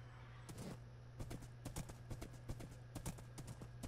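Horse hooves gallop in Minecraft, quick rhythmic clip-clop beats in uneven clusters at a low, steady level with no talk.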